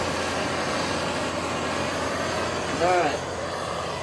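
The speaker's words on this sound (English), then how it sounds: "I'm actually going to light this with the smaller blower" A small blower on a waste oil horizontal forge burner, a steady broadband whooshing roar held close and loud throughout, with someone briefly speaking over it.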